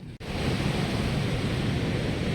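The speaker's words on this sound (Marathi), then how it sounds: "त्या दगडावर तर सॉलिड लाटा उसळत आहेत बघ ना" Sea waves surge and break against rocks along the Konkan coast near Nivati, forming a continuous loud roaring wash after a brief dropout at the start.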